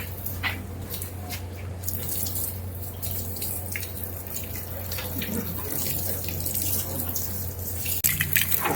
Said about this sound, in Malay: Saya akan siram air dan cuci dulu bahagian luar